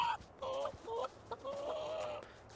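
Three hens and a rooster in the farm video game Rags to Riches, giving several short, fairly quiet clucks and a drawn-out call in quick succession.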